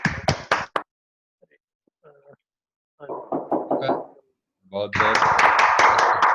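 Participants unmuted in an online meeting: scattered knocks and taps, then a dense burst of clapping that builds near the end, mixed with overlapping voices.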